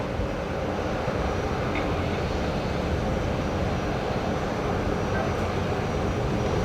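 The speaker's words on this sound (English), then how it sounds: "Qantas 197 is lined up and rolling" A Qantas airliner at Brisbane Airport lining up and rolling for takeoff, its engines a steady, heavy roar heard at a distance, continuous and even in loudness.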